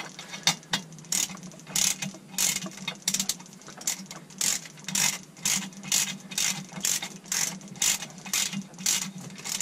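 A ratchet clicks steadily while bolts are tightened on a Mercruiser 5.7 marine engine's exhaust manifold and risers, giving a long run of quick, regular close-up pawl clicks with no talk.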